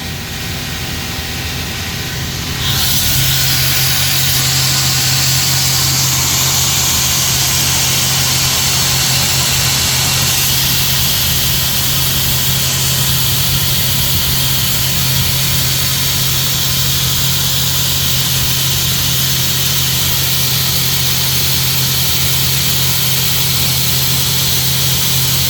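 A Mazak Fusion CNC machining center mills a full slot at light spindle load, a loud, steady mechanical roar with a constant low hum that switches on after a few seconds and runs unbroken to the end, no voices.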